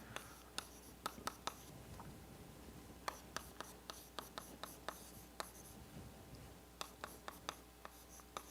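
Chalk or marker writing on a board during a partial differential equations lecture, a faint series of quick taps and short strokes in uneven bursts, with no talk.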